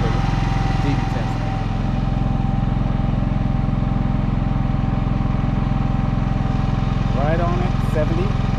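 Steady low drone of a GENMAX GM10500iETC tri-fuel inverter generator idling, even and continuous nearby, with faint bird chirps over it.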